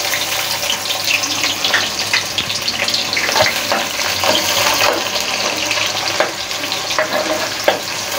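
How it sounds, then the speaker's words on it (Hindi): Cumin, garam masala and onion fry in a pan with a continuous close sizzle, with light stirring taps and scrapes scattered through it and no voices. "अब इसमें हम सबसे पहले डालेंगे ज़ीरा और ये गरम मसाला, इसके बाद प्याज"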